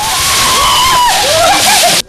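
Water poured over a person during an outdoor dousing flashmob, a continuous rushing splash lasting about two seconds that stops abruptly at the end, with a faint voice mixed in.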